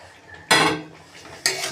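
A metal spoon scrapes and knocks in a cooking pan as fried foli fish is stirred into a potato and bori curry, two loud clattering bursts separated by a quieter pause, close by, with no talk.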